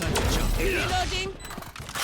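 A gun reloads in a shooter video game: a quick run of mechanical clicks and ratcheting clacks over busy game-sound background.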